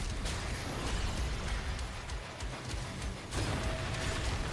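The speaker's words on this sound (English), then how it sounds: "Did that produce the secondary explosion?" A secondary explosion in the video game DOOM: The Dark Ages, heavy bursts and blasts with mechanical clanks in a dense, continuous barrage of game combat noise.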